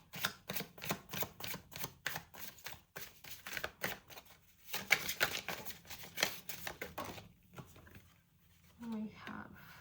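Tarot cards are shuffled by hand in a rapid run of crisp riffling patters, repeated in quick bursts with short pauses, close and fairly quiet, ending with a brief soft rustle.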